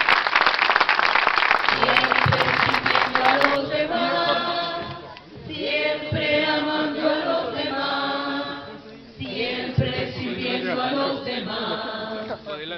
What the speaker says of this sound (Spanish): ¡Fuertes aplausos, hermanos, por nuestra fe!